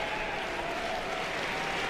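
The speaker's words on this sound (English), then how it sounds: "So close your eyes at home and listen to this crowd." A large college baseball crowd cheering steadily at Alex Box Stadium, a dense, continuous roar of voices and applause that fills the space with no breaks.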